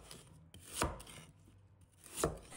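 A knife chopping radish on a cutting board in a home kitchen: two distinct, solid thuds about a second and a half apart, close and clear, with quiet in between and no voices.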